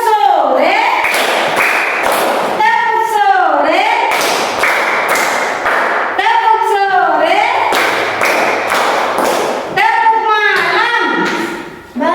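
Primary school children in a classroom clap along in a quick rhythmic pattern while chanting together in a sing-song voice, repeating the phrase several times.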